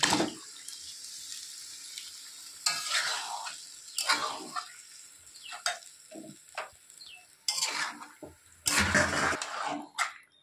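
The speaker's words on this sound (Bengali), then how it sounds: "মাংসটা এখন আমি ঢেলে দিচ্ছি" Marinated chicken poured into hot fried spice paste in a pan, loud wet splashing and sizzling bursts that come in several irregular waves, with scraping between them.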